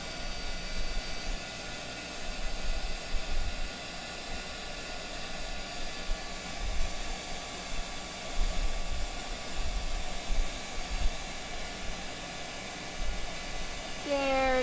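A heat tool blows a steady, loud, breathy whoosh as it heats embossed metallic stamping ink on a card, running continuously with no talking.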